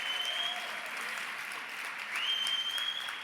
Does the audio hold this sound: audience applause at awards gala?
yes